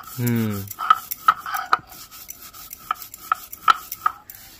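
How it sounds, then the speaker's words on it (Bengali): Roasted cumin being crushed by hand, a series of short, sharp grinding knocks and scrapes at an uneven rhythm, close, with a brief voice-like hum at the start. "ডালটা ভাজতে ভাজতে ততক্ষণে আমি জিরেটা গুঁড়ো করে নিই।"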